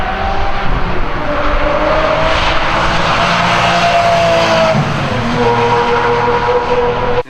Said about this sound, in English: it's been very difficult to actually find any footage of a stock Murcielago exhaust